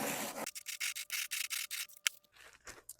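A rolling pin crushes cornflakes inside a bag, making a series of short, close crunchy rubbing strokes in a quick rhythm, with a louder crackle near the end.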